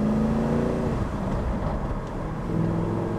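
A Spyker C8 supercar with an Audi engine drives along city streets, its engine note rising and dipping briefly under steady road noise, heard from on board with no talking.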